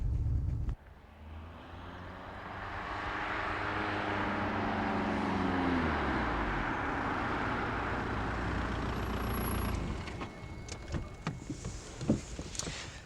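An Audi diesel car drives steadily, a smooth low engine drone with rising then falling harmonic tones as it accelerates and shifts, followed by a change to lighter road noise and a few clicks near the end.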